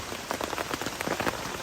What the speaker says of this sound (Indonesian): Ini nanti masaknya gimana kalau hujan kayak gini?